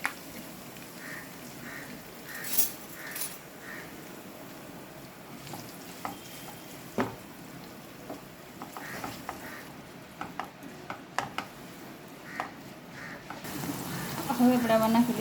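Cumin, curry leaves and two large chopped onions fry in hot oil for a fenugreek curry, with a low sizzle and repeated clicks and scrapes of a spoon stirring in the pan, while a voice talks over it.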